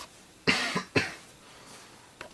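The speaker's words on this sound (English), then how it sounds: "why am I coughing so much?" Two quick, sharp coughs close together, followed by a faint short third one after a pause.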